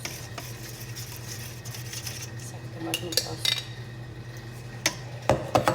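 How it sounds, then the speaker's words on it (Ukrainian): A spoon scrapes and clinks against a pot while tomato paste is stirred into broth, with a voice speaking briefly over the kitchen clatter. "розмішаємо, мішаємо, мішаємо"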